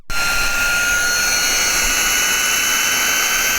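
A small electric air pump runs continuously and loudly, giving a steady high-pitched whine with a strong hiss, close by and alone.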